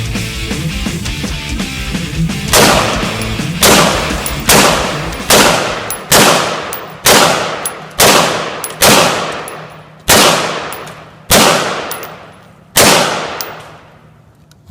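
Single shots from an IWI Tavor bullpen rifle fitted with a Timney trigger sear ring out one at a time at a steady, unhurried pace, each sharp loud crack trailing a metallic ring, about ten shots in all after a quieter start.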